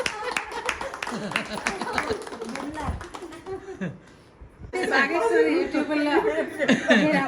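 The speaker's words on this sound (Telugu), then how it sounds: "అందరు క్లాప్స్ కట్టండి" Group clapping and laughter at a kitty party game, with chatter and talk throughout; a brief lull, then a burst of lively claps and chuckles from the gathered women.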